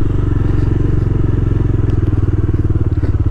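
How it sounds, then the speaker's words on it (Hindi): Several motorcycles rumble loudly and steadily close by with a pulsing low engine note as bikers arrive for an off-road trail ride event featuring a Dominar 400. "खतरनाक बाइकर्स आ रहे हैं भाई"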